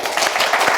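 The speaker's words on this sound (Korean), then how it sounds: "네, 박수." A small studio group on a Korean golf talk show gives a brief, loud burst of clapping, a dense flurry of hands lasting under a second.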